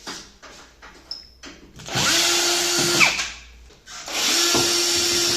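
Power tool, likely a drill or screwdriver, whirring in two bursts as it removes the front panel of an Arçelik washing machine, loud and close with short pauses between runs.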